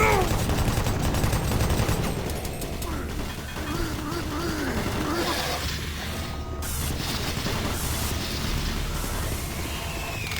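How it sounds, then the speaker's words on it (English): Automated turret guns fire in Doom 3, with dense bursts of gunfire and mechanical clatter running loud and steady throughout under constant game noise. "Warning. Automated turret guns online."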